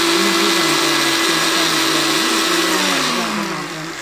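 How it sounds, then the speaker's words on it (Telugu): A mixer grinder blends a green rice paste made with curd, giving a loud, steady motor whine that runs continuously and eases slightly at the end. "నేను అన్నీ కలిపి మిక్సీ చేసేస్తాను."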